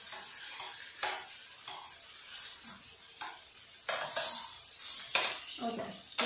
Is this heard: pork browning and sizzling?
yes